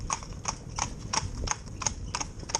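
Two horses, Jimmy and Choo, driven in tandem on their first outing, trot with steady, rhythmic hoof clip-clops, about three beats per second, close and clear.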